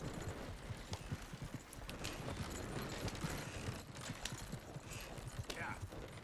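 Clip-clopping hooves of horses pulling a wagon in Red Dead Redemption 2 keep a steady trotting rhythm at moderate volume throughout, with occasional light rattles.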